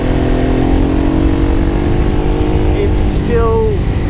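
A 20-something-year-old Honda Transalp motorcycle with about 150,000 km on it revs steadily as it accelerates, a loud close engine drone with wind noise and a voice talking over it.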